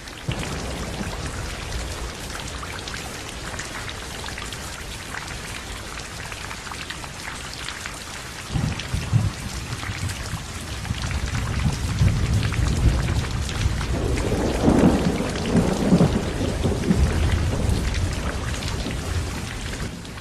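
Heavy afternoon rain pours steadily on surfaces, with a deep rumble of thunder swelling midway and lingering under the downpour.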